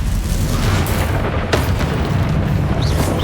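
A Confringo fire spell explodes in a Harry Potter video game, a loud booming blast set within a dense, continuous wash of game noise and rumble, with a sharp burst standing out near the middle.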